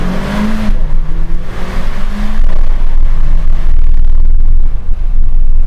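Mercedes GLA 45 AMG with quad exhaust revving, a loud, close engine roar that climbs and shifts pitch, then settles into a sustained throaty drone.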